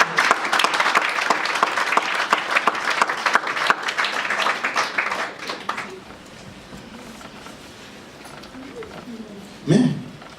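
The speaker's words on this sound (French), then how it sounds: "Klatsch für Jesus." A church congregation bursts into loud, dense applause for Jesus, clapping strongly for about six seconds before fading into quieter room murmur, with a voice speaking near the end.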